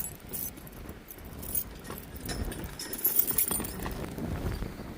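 Keys jangle and clink close by in cold, stormy conditions, rattling irregularly over a rough background of wind or engine noise.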